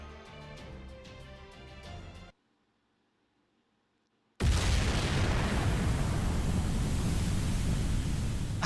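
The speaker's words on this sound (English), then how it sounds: "Why am I not surprised it ended in an explosion?" A loud, roaring explosion blast in the video game Fate/Grand Order bursts in after a short silence and sustains as a dense rumble, following a stretch of game music.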